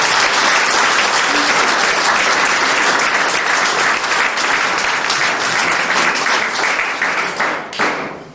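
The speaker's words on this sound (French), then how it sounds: "Vous pouvez aussi applaudir" Dense, sustained audience applause at a community merit awards ceremony, loud and steady for about eight seconds with no voices, tapering slightly at the end.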